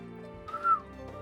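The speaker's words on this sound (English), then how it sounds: "As they straightened up, Arthur whistled" A character in the otome video game Ikemen Vampire gives a single short, clear whistle, fairly loud and rising briefly over a soft sustained musical background.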